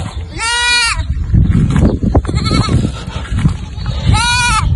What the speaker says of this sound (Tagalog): Kambing ang sumasalubong sa akin.